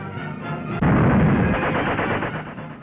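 German warships shelling Westerplatte, the Polish port outside Danzig, in an old wartime newsreel: a muffled rumble is broken by one heavy, close boom that decays into a long rolling roar, with no voices.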